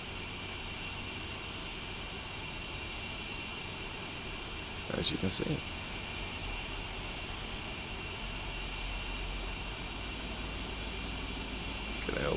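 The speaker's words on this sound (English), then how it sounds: "Engine 1 and 2 are now starting up." British Airways 747-400 engines 1 and 2 spooling up in the Prepar3D flight simulator, a rising whine climbing steadily over a constant engine hum, with a brief voice in the middle.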